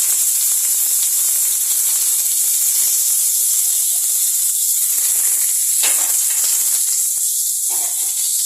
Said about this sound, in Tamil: கடுகு, உளுத்தம்பருப்பு, காஞ்ச மிளகாய், கருவேப்பிலை போட்டு தாளிச்சிக்கலாம்.